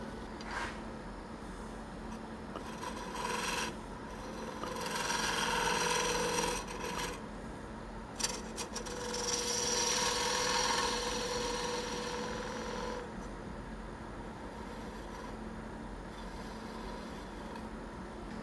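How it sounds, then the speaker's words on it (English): Wood-turned ornament spinning on a lathe while finish is buffed in, a soft rubbing friction over steady motor hum, swelling twice in longer passes with a few sharp clicks between. "Let's buff it in a little bit."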